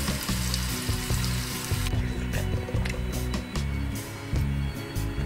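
Chicken pieces fry in hot oil for chilli chicken, a loud, continuous close sizzle and crackle with bubbling, no talking.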